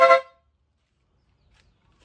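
A short, bright blast from a compact multi-tone vehicle horn combination sounds once, loud and close, then cuts to near silence.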